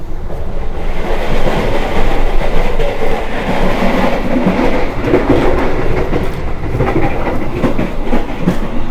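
A Jaka Tingkir economy train with a new-generation stainless steel carriage and automatic doors runs from Solo to Jogja, heard from on board. Its loud continuous rumble carries rhythmic wheel clatter, and there is no talk.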